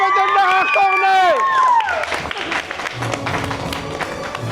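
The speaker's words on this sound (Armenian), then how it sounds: "ուզում եմ բարձր ծափարենք" Audience applause and crowd noise for the winner of a camp games final, a loud burst of clapping and cheering that follows a sustained musical fanfare and settles into steady applause.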